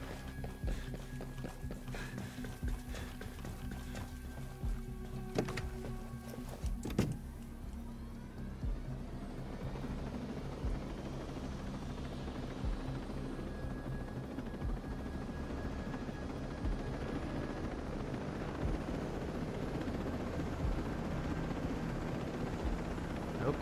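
A helicopter in Ghost Recon Breakpoint idles and runs with a steady low rotor drone and engine hum that persists throughout, with a few footsteps and clanks early on, no voices.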